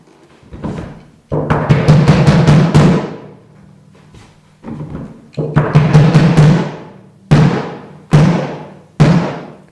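Deep bass drum hits after slight tightening of the resonant head, single strikes and quick rapid clusters, each with a short punchy boom and moderate resonant tail, close and loud with silence between.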